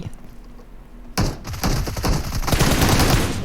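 Gunfire in the mobile game PUBG Mobile during a versus-AI match: after a quiet lead-in, a sudden loud shot gives way to dense, rapid automatic bursts that continue steadily and close, without speech.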